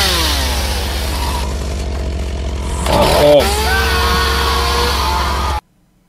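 In the horror video game Chainsaw, a chainsaw engine runs loud and continuous, its pitch climbing through a rev partway through, then cutting off abruptly near the end.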